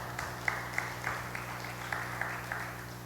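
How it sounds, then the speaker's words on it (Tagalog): A small church congregation applauds with a thin patter of scattered claps, fairly faint over a low steady hum, sounding like only a handful of people clapping. "Palakpakan po natin ang Panginoon."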